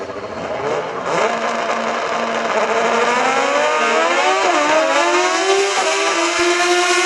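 A K-series Honda Civic, all-motor, drag racing at full throttle in a street-racing final, its high-revving engine screaming steadily and loudly with rising pitch through the gears, close and continuous with no voices.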